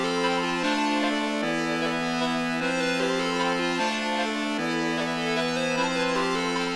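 Hard trap beat melody made in FL Studio: a bright, buzzy synth lead steps between two sustained notes in a slow repeating pattern, steady and loud, with no drums or voices.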